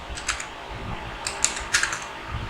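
Java code being typed on a computer keyboard: a quick, irregular run of close, crisp key clicks in small bursts, with no talking.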